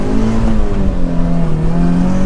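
Turbocharged Subaru BRZ engine pulling hard at high revs while merging into traffic, a loud steady in-cabin drone with rising harmonic whine throughout, no talking.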